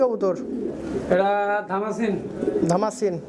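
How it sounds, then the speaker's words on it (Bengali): Soft pigeon coos repeat close by from a pair of silver-bar pigeons at a pigeon sale, partly under someone talking over them. "নতুন কবুতর দেখেন ভাই দেখতে পাচ্ছি এক জোড়া খুব সুন্দর মাল্টেস"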